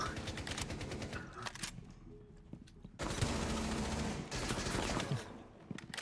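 Continuous video game gunfire rattles in two long stretches of rapid automatic shots separated by a short lull, fairly faint overall.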